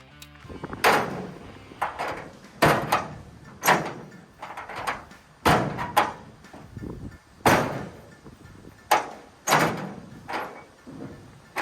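A truck tailgate on a vehicle that lost oil pressure is worked shut again and again, giving a series of loud, close metallic thunks and slams in an irregular rhythm, with no talk.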